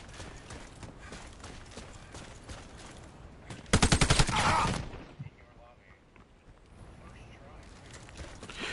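SMG fire in the shooter game Warface comes as a short, loud rapid burst of shots in the middle, with quieter game noise before and after and a voice talking faintly over it.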